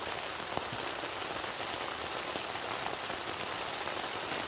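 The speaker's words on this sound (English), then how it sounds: "the sound of rain hitting the tent" Steady heavy rain patters on a taut tent surface close by, a dense even hiss with occasional sharper drops, no speech.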